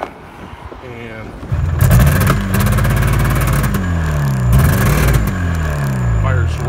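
A Yamaha Phazer snowmobile engine is started with the choke on, catching at once and settling into a loud, close, rapid two-stroke-style idle with rising and falling revs, and someone talks over it at the start.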